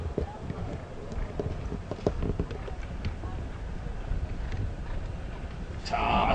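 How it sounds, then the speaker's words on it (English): Polo ponies galloping across turf at The Villages Polo Club, a steady rumble of hoofbeats and low thuds running throughout, with a commentator talking over the match. "Gray horse fires it downfield, being challenged by, looks like Escapate."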